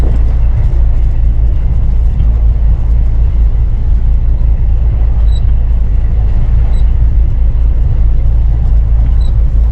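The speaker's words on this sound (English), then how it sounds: "Started the engine" A boat engine idles steadily while warming up after being started, a loud continuous low rumble with a constant throbbing drone and no breaks, close to the listener.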